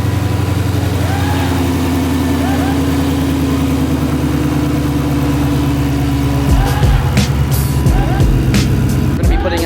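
A car engine fitted with a VMP Gen3R supercharger idles loudly and close with a steady, throbbing low rumble, a brief burst of revving and clatter near the end.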